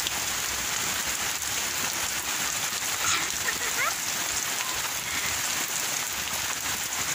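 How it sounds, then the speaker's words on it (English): Steady rain falls on outdoor surfaces, a constant close hiss of drops with no break, while a faint voice briefly sounds underneath. "Yeah, it's still raining."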